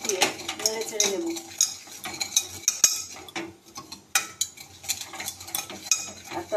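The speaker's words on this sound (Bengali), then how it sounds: "এদিকে আমি জিরাটাকে চামচ দিয়ে নেড়ে চেড়ে নেব" A metal spoon stirs cumin in a pan, bright repeated clinks and scrapes in an uneven rhythm, close and fairly loud, with a soft sizzle underneath.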